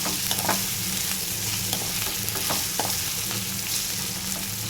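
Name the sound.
stirring chicken liver curry frying in a pan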